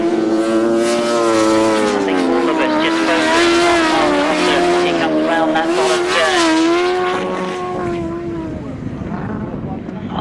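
Longtrack speedway motorcycles at a world team championship race roar past close by, a loud sustained engine whine with rising and falling pitch that fades slightly toward the end, with a commentator talking over it.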